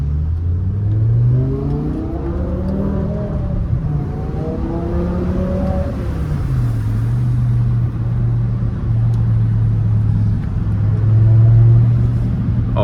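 A BMW E60 M5 engine revs hard inside road tunnels, its pitch rising and falling through several gear pulls before settling into a steady loud drone, close and continuous with no talking.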